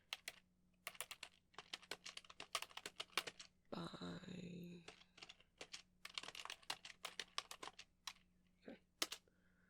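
Quiet, close-up typing on a computer keyboard in a soft ASMR setting, bursts of rapid key clicks with short pauses and a brief smoother rustle in the middle.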